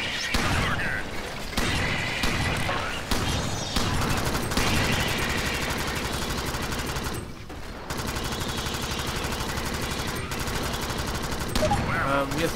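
Gunfire in the video game Alien Swarm fires in dense, rapid automatic bursts that run almost without a break. The shooting is loud and close, with a short pause partway through.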